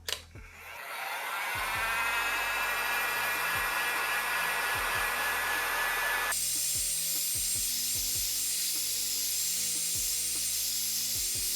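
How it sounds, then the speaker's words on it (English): A heat gun or hair dryer blows steadily close by, warming the back cover of a Samsung S22 so a bloated battery can be replaced, with a loud broadband roar that shifts in tone partway through and small handling knocks beneath. "I'm going to heat up here the back cover a little bit, not too much."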